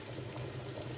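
Rice cooks in a pot of boiling water, a brief, quiet, steady bubbling and churning of liquid heard up close.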